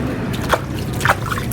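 Water is sprayed onto a screen-printing screen to wash it, a close wet hiss with two short bursts of splashing spray over a steady low background, and no voices.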